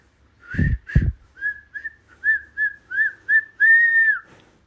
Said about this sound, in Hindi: दूध वाला सीटी बजाते हुए गली में आया।